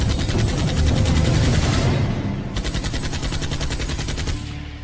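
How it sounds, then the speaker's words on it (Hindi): Loud, close bursts of rapid automatic gunfire rattle almost continuously, easing briefly midway before another sustained volley. "दुश्मन की बंदूक से निकली कई गोलियां सीधा आकर उनको लग जाती हैं"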